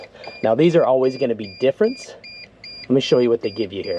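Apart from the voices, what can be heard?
van door open warning beeping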